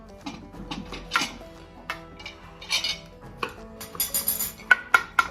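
Utensils clink and scrape against a serving dish while a Persian herb frittata is cut into wedges, a series of light, irregular metallic taps and knocks close by, rising in pace toward the end, with no talk.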